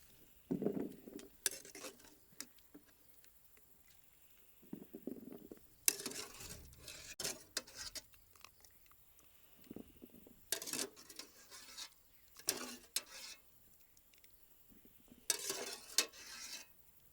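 Fried cauliflower scooped out of a pan, a quiet series of intermittent utensil scrapes, clinks and rustles separated by short pauses, close and fairly soft with no talking.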